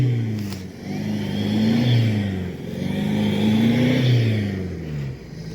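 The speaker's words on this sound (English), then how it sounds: "Oh, you can't spin the wheels." A car engine revs repeatedly, rising and falling in long swells, while its wheels spin on a camping trip at Christmas. The whine comes in loud, sustained waves with no talking.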